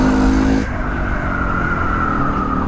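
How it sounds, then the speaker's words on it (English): A Jawa/Yezdi motorcycle pulls away as the throttle is opened, a loud, close engine note that drops in pitch early on, then settles into a steady, strong hum. "Just open the throttle and it just pulls away."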